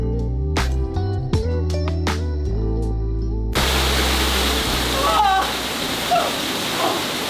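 A waterfall at a paid-entry site rushes as a dense, steady roar that begins partway through, after a stretch of tonal, music-like sound, with voices talking over the water.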